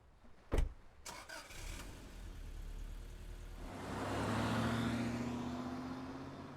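A car in the video game AI: The Somnium Files starts up after a couple of sharp clicks, then its engine hums and swells into a rising whine as it pulls away, fairly close and with no talking.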